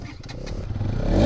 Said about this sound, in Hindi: तो इसका एग्जॉस्ट नोट 160 से थोड़ा सा आपको ज़्यादा बेसी मिलेगा।